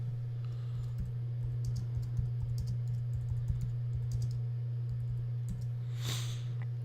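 Soft, irregular clicking of computer keyboard keys as a search term is typed, faint under a steady low electrical hum, with a brief hiss near the end.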